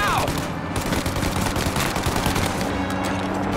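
Sustained enemy gunfire in Mafia Definitive Edition, a dense, continuous clatter of shots over a noisy backdrop, loud and unbroken throughout.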